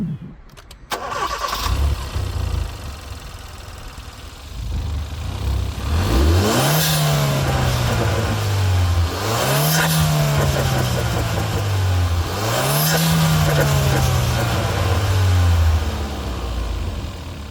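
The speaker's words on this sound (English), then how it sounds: "that's the intake noises from the upgraded cold air intake" A Hyundai Elantra Sport with an upgraded cold air intake starts up and is revved three times, each rev swelling into a throaty intake roar and falling back to a low idle between, close and loud.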